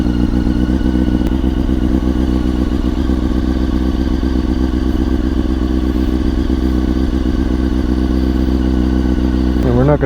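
A rebuilt 2000 Honda CBR929RR motorcycle engine runs close and loud at a steady, throbbing idle after starting up, with a slight blip of the throttle near the end.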